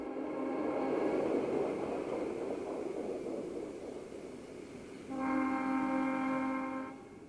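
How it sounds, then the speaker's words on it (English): Penn Central train rounding a curve beside the Huron River near Ypsilanti, with a rumbling approach and a long, loud horn blast sounding near the end. "The train rounds the curve alongside the Huron River"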